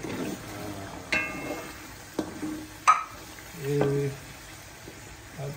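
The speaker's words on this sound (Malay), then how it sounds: "Kalau kita goreng, selalu goreng dengan kulit." Ingredients with their skins on fry in a pan for sambal goreng, a soft sizzle broken by a few sharp clinks and scrapes of a utensil and a brief louder stirring swell.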